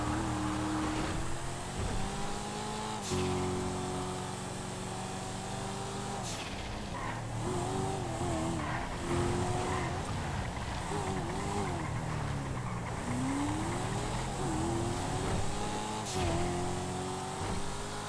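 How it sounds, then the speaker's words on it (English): A police F620 car engine in GTA FiveM roars through a pursuit, sustained and loud, with the revs rising and falling repeatedly and no talk over it. "Locke chasing me down in the police car F620"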